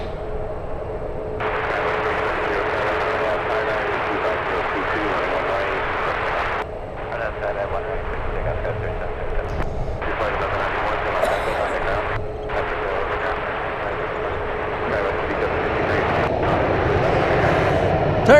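An Emirates airliner taxis toward the runway at San Francisco airport, its engines a steady distant roar with a few dips. A voice talks over the engine noise throughout.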